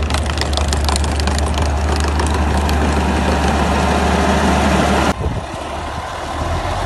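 A farm tractor working the soil in a field, its engine running at a steady, loud, low rumble for about five seconds before it cuts off abruptly into quieter background noise.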